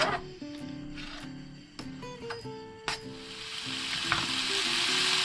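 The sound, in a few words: bacon frying in a pan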